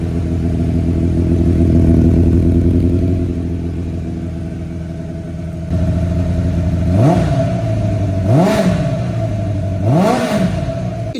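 A 1985 Suzuki GSX 550 motorcycle, left standing for 15 years, idles loudly and close, then gets three sharp throttle blips that rise and fall in pitch before settling back to idle.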